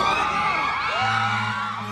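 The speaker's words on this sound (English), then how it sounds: "all of a sudden fans on the far end start screaming" Fans scream and whoop at a red carpet event as a star appears, a dense shrill crowd roar with overlapping high voices that holds steady and loud throughout.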